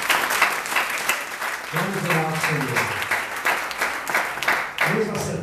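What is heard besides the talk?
church congregation applause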